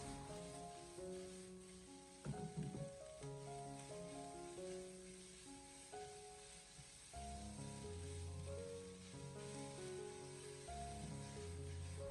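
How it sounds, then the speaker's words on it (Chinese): Shredded white radish and dried shrimp are stir-fried in a wok, a steady, quiet sizzle with occasional stirring, faint under continuous background music. "将虾皮炒香以后，我们再将白萝卜丝重新回锅，然后再继续的翻炒一小会，将其翻炒均匀"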